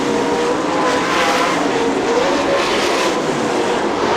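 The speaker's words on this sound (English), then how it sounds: "Heavy traffic, cars running all over the place." IRA sprint cars race in lap traffic at Fremont Speedway, a continuous loud roar of engines from several cars that swells and fades slightly as they pass, with no voices.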